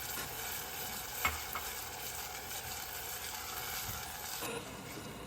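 Jerk paste being stirred into chicken in a pot, a soft steady sizzle with faint scraping and one light knock, quiet and close with no talking.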